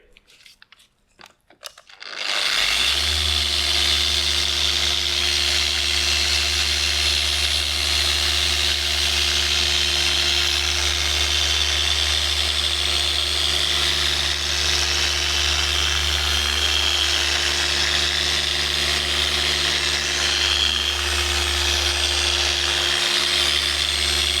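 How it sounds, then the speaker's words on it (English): A machine polisher on car paint spins up after a brief rustle and then holds a steady, loud, close whine at speed 4 with a constant pitch for over twenty seconds, with no talking. "In this case, I would use 4 polishing speed, and work the polish until it's semi-clear."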